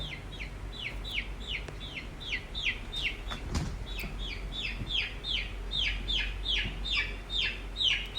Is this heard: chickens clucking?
yes